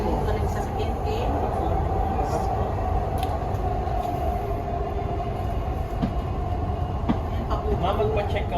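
Steady rumble of a Dubai metro train in motion, heard from inside the car, with faint voices murmuring beneath the continuous low roar.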